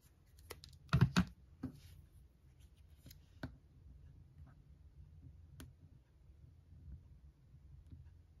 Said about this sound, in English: Let's cut these to size a little bit.